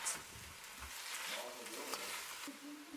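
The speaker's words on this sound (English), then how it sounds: "Stir fry until the Chinese broccoli has gone greener" Chinese broccoli (Gan Lai) stir-fried in a pan sizzles and crackles softly and continuously, with occasional scraping stirs and a voice speaking faintly over it.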